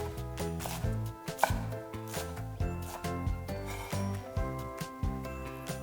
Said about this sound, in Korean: 이 깻잎도 굵직하게 채 썰어서